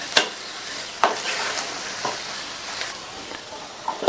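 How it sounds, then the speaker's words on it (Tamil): Rava upma with ghee stirred in a pan, with a few distinct scraping strokes about a second apart over a soft, steady sizzle, close up and with no talking. "மறுபடியும் நல்லா ஒரு தடவை மிக்ஸ் பண்ணி விட்டுட்டு"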